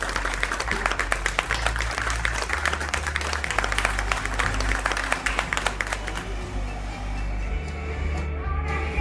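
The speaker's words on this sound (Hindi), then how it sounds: "जोर से तालियां होने।" Audience applause at an art and culture award ceremony in Delhi, dense sustained clapping from a large crowd over a low musical hum, thinning slightly toward the end.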